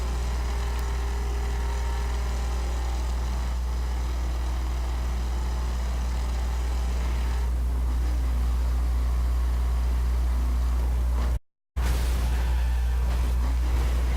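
A Chevrolet Silverado truck in the video game The Crew drones with a steady low engine note, holding an even tone for a long stretch before a brief cut and a rougher, louder resumption.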